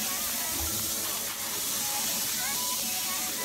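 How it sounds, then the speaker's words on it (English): Shrimp sizzle in a frying pan with garlic paste, a steady close hiss of frying that runs throughout with faint thin crackles, moderately quiet, with no speech. "Now I'm gonna place my shrimps into the pan."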